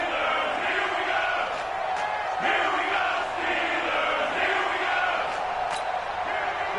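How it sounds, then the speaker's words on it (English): Stadium crowd in a PS4 football video game roars and cheers steadily ahead of a big third down, a dense, sustained wash of voices with swelling bursts, fairly loud throughout. "The crowd getting into it as we come up on a big 3rd down"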